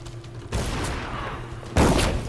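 Enemy soldiers fire on the player in the stealth action game Dishonored 2, two loud bursts of gunfire crackling with rumbling echo, the second sharper and heavier.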